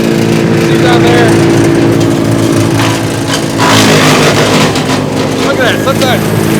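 A Mechmaxx DCH7 wood chipper runs loudly nearby while dry plum tree branches are fed in, its steady engine drone overlaid by bursts of grinding and crunching; someone talks over it.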